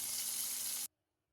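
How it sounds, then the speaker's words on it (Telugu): Chicken frying in hot oil over a medium flame, a loud steady hiss of sizzling that cuts off abruptly to near silence. "ఇలా టర్న్ చేసుకొని మళ్ళీ బ్రౌన్ కలర్ వచ్చేదాకా ఫ్రై చేసుకుందామండి"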